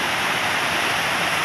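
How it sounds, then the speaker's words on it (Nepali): A clean, clear stream flows between Kaule fields near Ghamir in Gulmi, a steady close rush of running water that fills the whole moment without any voices. "यस्तो सफा खोला"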